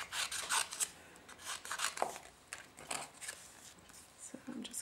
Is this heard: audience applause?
no